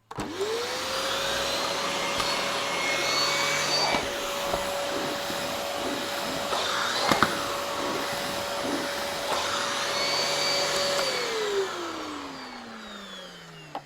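A Vytronix budget vacuum cleaner runs steadily at close range, a loud continuous motor whine and airflow roar that spins up at the start, holds for about ten seconds and winds down near the end.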